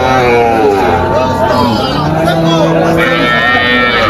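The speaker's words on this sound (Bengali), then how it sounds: "এইখানে হচ্ছে আরো গাভী উঠছে" Cows and dairy cows low repeatedly at a busy cattle market, their deep moos overlapping amid steady crowd babble and nearby talk.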